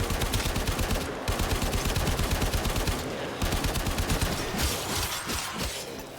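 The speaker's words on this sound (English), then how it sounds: "Hey, excuse me, stop shooting me." Rapid, continuous gunfire from the Warframe video game, loud and sustained throughout, with dense automatic bursts and brief gaps near the start and midway.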